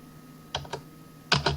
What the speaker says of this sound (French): R au clavier